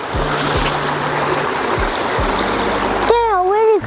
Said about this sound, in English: See this waterfalls?